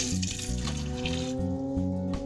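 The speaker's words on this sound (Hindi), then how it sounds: "अब हम इसमें ऐड कर देंगे 2 कप पानी।" Two cups of water poured into a pressure cooker holding chickpeas and lentils for a Lahori khoya chana dish, a steady continuous splashing pour with no talk.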